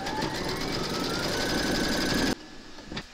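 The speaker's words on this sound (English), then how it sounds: "Pop your hoop into your machine and stitch round number six" An embroidery machine stitches an appliqué outline in a hoop with a fast, dense, buzzing chatter for a couple of seconds, then stops abruptly, leaving quieter mechanical clicks.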